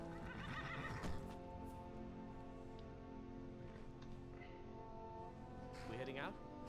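A horse neighs and whinnies in a game soundscape of the Minecraft modpack TerraFirmaPunk, with hooves clip-clopping and a voice talking over the top.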